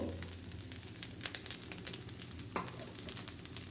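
Beaten eggs stirred into leftover rice frying in ghee, a quiet crackling sizzle with repeated soft scraping strokes of a spatula in a rough rhythm, close up and without speech.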